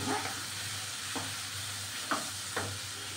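Pasta ingredients are stirred in a pan over steady frying sizzle, with a few distinct spatula scrapes cutting through the constant hiss.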